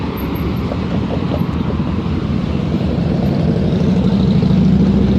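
Road traffic with cars and buses at a busy crossing held up by a CN train, a dense continuous rumble of engines and tires, loud and steady throughout, with no talking.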